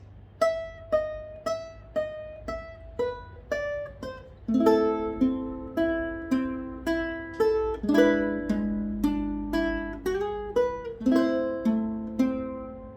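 A guitar plucks a slow melodic phrase, single notes at first, then fuller chords ringing out in a steady rhythm, played close with no talking.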